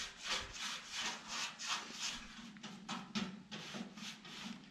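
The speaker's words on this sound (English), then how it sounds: "I will just brush and brush and brush until it gets streaky and it's not a full coverage" Bristle brush dragged back and forth across a 1955 Chevrolet car part, applying paint in repeated scrubbing strokes with a steady rhythm, close and fairly quiet, with no talking.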